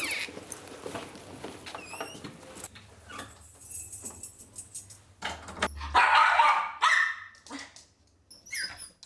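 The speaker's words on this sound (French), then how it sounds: "il se retrouve seul, Nounours aboie sans s'arrêter" A one-year-old bichon left alone at home barks repeatedly, a series of sharp high yaps and whines at irregular intervals, close and fairly loud, with quieter gaps between bursts.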